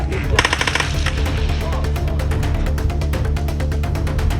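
Rapid automatic gunfire near an aid distribution centre in Gaza, a dense burst of sharp repeated shots early on, then a continuous rattling volley of fire carrying on steadily throughout.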